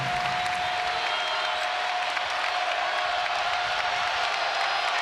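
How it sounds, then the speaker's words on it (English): A basketball arena crowd at Bud Walton Arena during a Kentucky vs Arkansas game cheers and applauds in a steady, dense wash of noise, with a faint tone running underneath. "Crowd getting to its feet here at Bud Walton."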